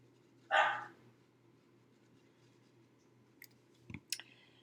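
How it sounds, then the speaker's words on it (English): A single short dog bark rings out near the start, followed by faint clicks and small knocks against a low steady hum. "I don't know what she's barking at."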